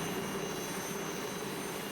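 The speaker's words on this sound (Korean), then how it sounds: "부족 사람들과 인사를 하는 동안 헬기는 바로 뜹니다." A helicopter lifts off from a remote jungle village in New Guinea, heard as a faint, steady engine drone far in the background with no voices.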